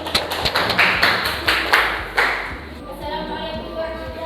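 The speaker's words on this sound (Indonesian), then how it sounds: "Tepuk tangan untuk kelompok 1." A short burst of clapping for a student group presentation in a classroom, with sharp, uneven hand claps for about two seconds, then fading into a softer, sustained background murmur.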